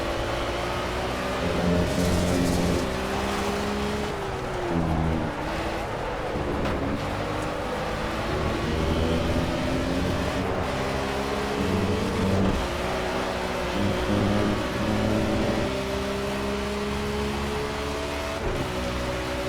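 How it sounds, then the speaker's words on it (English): An M1 Procar racing car in Project CARS revs hard and loud, its engine pitch climbing and dropping back with each gear change, repeating every few seconds on a wet, slippery track. "This car only has 5 gears, so we might be revving out here in the 5th gear."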